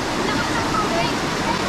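Rushing water of the Pugo river, a cold, clear river, a loud continuous roar with some voice-like tones mixed in.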